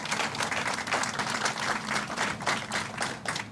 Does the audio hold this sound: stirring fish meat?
no